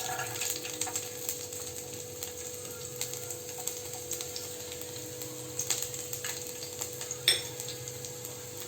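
Chopped garlic sizzles steadily in oil over a low flame while a spoon stirs it, giving a faint, continuous crackle with soft scraping strokes and one brief louder clink near the end.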